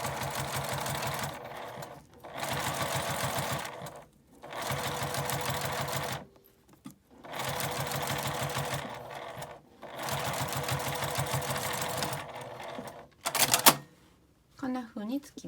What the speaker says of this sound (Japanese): ここに端ミシンをかけます。